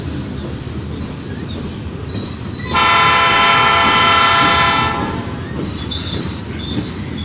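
Canadian National 9638 freight train passing, a loud continuous rumble with a sharp, sustained high squeal of wheels for a couple of seconds that fades back into steady rolling noise.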